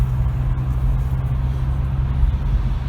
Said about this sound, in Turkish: Şu an yoldayız. Test sürüşü yapıyoruz.